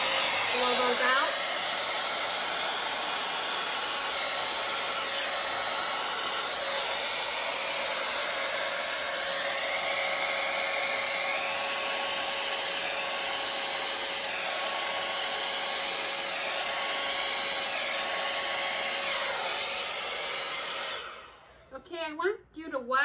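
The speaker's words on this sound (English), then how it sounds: "I'm going to turn my blow dryer to the side a little bit" A hair dryer blows in a steady, loud whoosh for a long stretch, blowing out wet paint on an acrylic pour canvas, its pitch shifting a little as it moves, then cuts off abruptly at the end.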